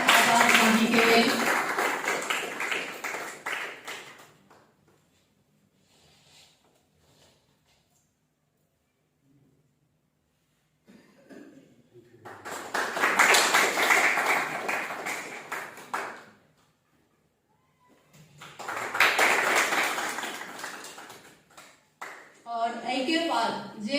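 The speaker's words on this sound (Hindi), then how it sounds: "एक बार जोरदार ताली अजीत आजाद झा जी के लिए।" Crowd applause at a Maithili book event for the book 'Ramya', honoring writer and Navarambh Prakashan publisher Ajit Azad Jha, in three strong bursts of clapping with quiet gaps between them.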